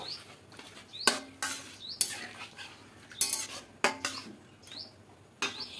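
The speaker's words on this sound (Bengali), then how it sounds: "দিয়ে খুব ভালো করে মিশিয়ে নেব।" Chopped vegetables being mixed into a potato and semolina breakfast dish, a series of sharp spoon clinks and scrapes against the pan at irregular intervals, close up and alone.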